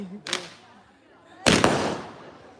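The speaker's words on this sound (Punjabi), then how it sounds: "ਦੇਖੋ ਜੀ ਚੱਲ ਪਏ ਬੰਬ ਜੀ" Firecrackers go off outdoors at a village celebration, a smaller crack early on followed by a loud close burst that crackles and fades over a second, with voices around.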